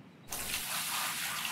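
Water gushes steadily into a bucket in the gold-mining video game Gold Rush The Game, starting abruptly after a brief quiet moment and running as a continuous close, broadband pour.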